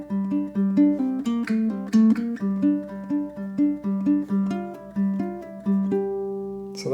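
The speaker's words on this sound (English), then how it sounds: "So we have the first half of theme number 3." First half of the third theme of a ukulele etude built on hammer-ons and pull-offs, a continuous flow of plucked, slurred notes at a steady pace, close-miked and unaccompanied, ending on a sustained note.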